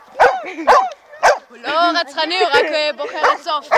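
A dog barks in short, loud bursts mixed with yips and whimpering whines, close by, while people talk over it.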